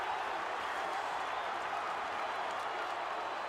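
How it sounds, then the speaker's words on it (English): Football crowd at Moorabbin roaring after a spectacular AFL mark, a dense, sustained wash of distant cheering and applause filling the whole moment, with no single voice standing out. "The crowd goes wild at Moorabbin."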